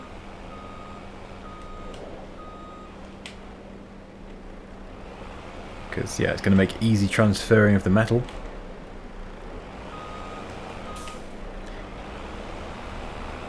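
Truck reversing beeps in Farming Simulator 22, a steady run of loud evenly spaced electronic beeps for about two seconds mid-clip, with someone talking before and after over low engine hum.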